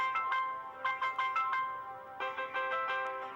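A phone rings in quick repeated bursts of a bright electronic melody, pausing briefly before resuming, fairly soft and with no one talking over it, in a Pakistani drama scene.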